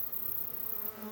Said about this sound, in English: I got a little bee flying close to me and landing on me